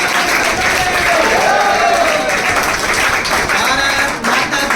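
An audience at an award ceremony honouring newly selected Agniveer army recruits breaks into sustained, dense clapping that fills the room steadily throughout, with crowd murmur mixed in.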